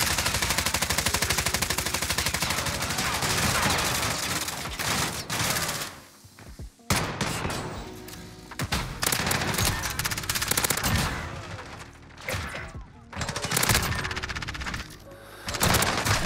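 Sustained rapid automatic gunfire in a shooter video game, loud and dense, with bursts broken by brief pauses and a few isolated shots between volleys.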